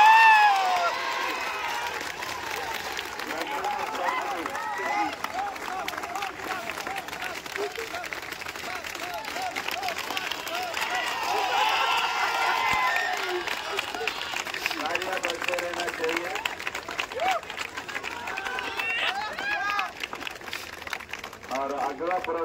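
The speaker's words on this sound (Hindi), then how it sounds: "तालियां बजते रहना चाहिए।" Audience applause at a prize ceremony for a Hindi Day celebration in Hyderabad: sustained clapping from a crowd with cheering and a murmur of voices, while speech carries on over it.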